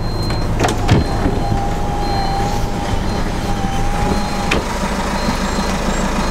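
A motorhome on a trip to South Tyrol pulling away, its engine giving a loud, steady rumble with a thin rising whine and a couple of brief knocks near the start, and no speech.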